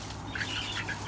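A brief burst of chickens clucking nearby, a few short squawky calls over a low background hum.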